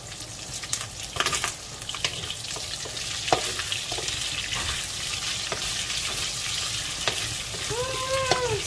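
Garlic sautés in a pan for adobong gulay with pork belly, a dense close sizzle with scattered clicks and scrapes of stirring and a brief squeaky tone near the end; no talking.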